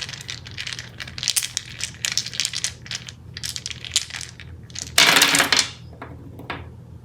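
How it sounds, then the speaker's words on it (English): Dice tumbling and clattering across a surface during a tarot card reading, a run of quick rattling clicks with one louder burst of clatter near the end. "let's get you some dice."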